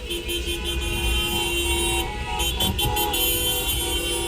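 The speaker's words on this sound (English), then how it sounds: "listen to how many cars are chasing these guys" Several car horns honk in a sustained, overlapping chorus near a Lake Street Target, with a steady blaring tone over street noise and brief extra toots partway through.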